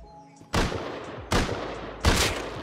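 Three loud, close gunshots from a large fight in the survival game Rust, spaced under a second apart, each with a booming tail that rings on afterward.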